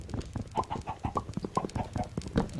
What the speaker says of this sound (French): j'ai actuellement 117 poulets dans la maison de PNJ